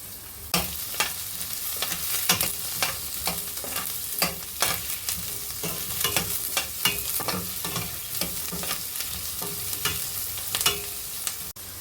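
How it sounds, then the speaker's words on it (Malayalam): Chopped onion and green chili frying in a pan, a continuous sizzle broken by frequent scraping strokes of a spoon stirring, close up and fairly regular. "ഉള്ളി വഴന്ന് വരുന്നതിൻ്റെ കൂടെ ഈ പച്ചമുളക് കൂടി ഇട്ട് കൊടുക്കാം."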